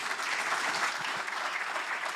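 An audience at a tribute event gives a steady round of applause, a dense even patter of many hands clapping that holds throughout, close and with no voices over it.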